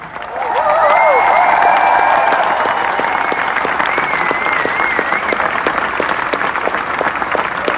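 A large concert audience at a show in Antalya bursts into sustained applause with some cheering and whistles, loud and dense at first, then settling into steady clapping.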